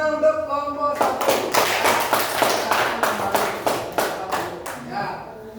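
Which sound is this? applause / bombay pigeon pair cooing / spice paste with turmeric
applause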